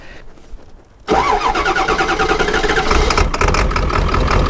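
A Ford 7.3 Powerstroke diesel engine cranks briefly, then catches at about one second and settles into a loud, close, rough idle that keeps running steadily, with a shaking, uneven note.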